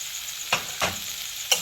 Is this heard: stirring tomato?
yes